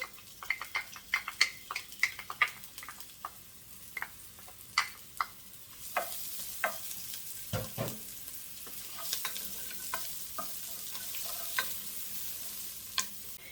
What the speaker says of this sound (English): So these onions are just starting to get a little bit of color on them.